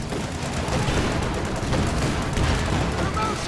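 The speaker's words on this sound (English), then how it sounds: "Grenades going off here" Grenades and gunfire in a video game battle make a dense, continuous roar of explosions and shots, loud and sustained without any pause.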